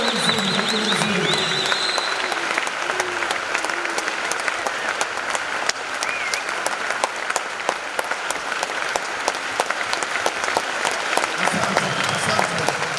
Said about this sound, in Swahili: Haya makofi ni ishara ya kupokea.